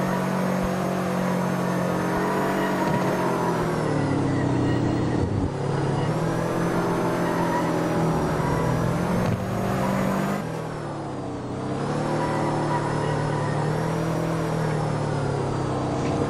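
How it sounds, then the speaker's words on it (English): Car engines in a racing video game, a loud continuous engine drone whose pitch climbs and drops through repeated gear shifts, briefly easing off near the end before revving again, with no talk. "I actually have car noises this time."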